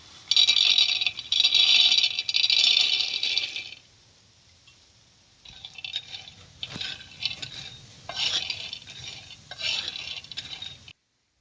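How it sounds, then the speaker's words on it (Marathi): Peanuts roasting and being stirred on a griddle pan over a wood-fired stove, giving a steady scraping, rattling sizzle that stops for a moment, then returns as rougher intermittent scraping with small clinks. "याच तव्यात गवारीत कुठं घालायला जरा शेंगदाण भाजून घेतो"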